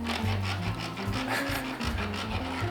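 A finger rubbing back and forth on the metal nozzle of a guinea pig water bottle, producing a squeaky rasping friction with repeated strokes, loud and very close, no voices.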